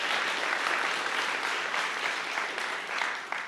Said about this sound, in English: Let's just give him a special round of applause.